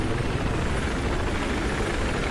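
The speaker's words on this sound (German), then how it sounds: "So, dann mache ich hier mal eine Notlandung." Helicopter rotor and engine roar from a Battlefield 4 multiplayer Conquest match during an emergency landing, a loud, steady, dense whir filling the whole stretch with no talking.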